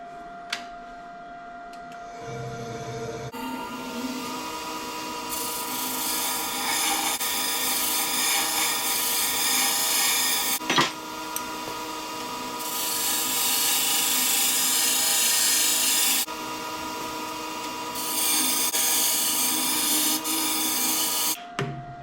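A bowl gouge held in a scraping position works against the spinning surface of a wood carver's power strop to remove honing compound, giving a sustained harsh grinding rasp that drops out and comes back in several long passes over a motor hum.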